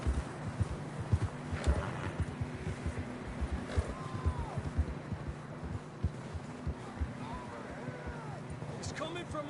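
Steady rhythmic hoofbeats of horses trotting in Red Dead Redemption 2 under a low rumble, with faint distant calls and voices speaking over the top.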